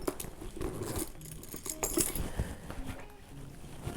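Keys jangle and clink in a quick, metallic flurry, close by, with some rustling handling noise throughout.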